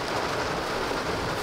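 Rainy-season rain falls steadily on a coffee plantation in Mexico, a dense, even patter that stays loud and unbroken throughout with no voices.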